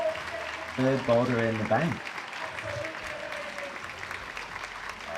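A crowd applauds and cheers for a climber's buzzer-beater on a boulder at the IFSC Oceania Championships 2024 finals, a broad steady wash of clapping under a commentator's voice.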